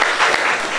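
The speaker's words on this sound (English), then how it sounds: "We want to hear at least a nice applause and go wild if it's really the game you want to hear." An improv comedy show audience applauds to vote for a game, a brief, loud burst of dense clapping.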